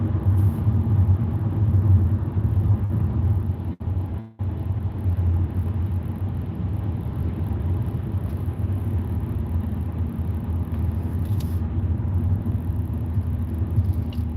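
Car driving slowly in traffic behind a truck, a steady low engine rumble and road noise inside the vehicle throughout, broken by a couple of brief dropouts, no talking.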